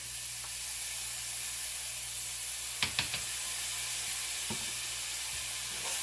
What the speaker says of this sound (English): I'm going to add 2 cloves of garlic